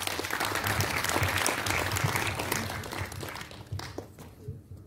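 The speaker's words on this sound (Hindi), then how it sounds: "तालियां बहुत जोरदार।" Loud, sustained audience applause at a Women's Day event, dense clapping filling the room before tapering off toward the end.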